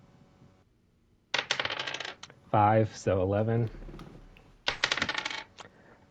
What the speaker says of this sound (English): I'm going to roll my real dice for this, so you're going to listen to me roll 5 times.